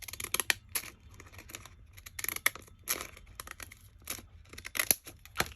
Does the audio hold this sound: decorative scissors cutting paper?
yes